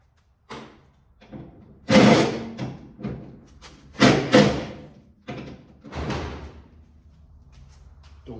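Door being removed from a 1947 Chevy truck cab, with heavy metallic thumps and clunks at irregular intervals, several loud knocks and scraping handling sounds close by.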